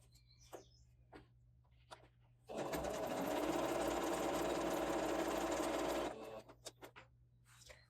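A domestic sewing machine sews a zigzag stitch for a knife-style pocket, running loud and close in one continuous burst of several seconds, framed by small handling clicks and quiet before and after.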